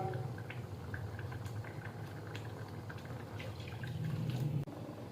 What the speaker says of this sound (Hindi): और अब साथ ही हम इसके अंदर पानी ऐड कर लेंगे